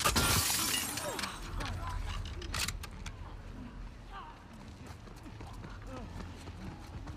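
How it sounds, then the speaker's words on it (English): Glass breaking in The Last of Us Part II, a sharp bright shatter near the start and another crash shortly after, followed by quieter game ambience, hoofbeats and talking voices. "So do I really have to break this glass?"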